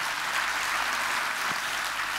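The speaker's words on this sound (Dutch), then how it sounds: "Geef een groot applaus." Audience applause at a sport and culture awards gala in Venray, a steady, even roar of many clapping hands from a crowd, with no talk.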